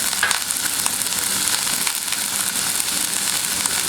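Crushed green chillies frying in a pan for mushroom coconut milk biryani, a loud, close, unbroken sizzle with faint crackles throughout.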